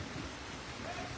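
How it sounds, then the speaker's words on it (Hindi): Heavy rain pours steadily over a main bus stand during a storm with strong wind, a dense continuous hiss with a low rumble underneath, fairly close and unbroken. "ये देखिए बारिश, देखिए किस तरह से बिजली गरज रही है।"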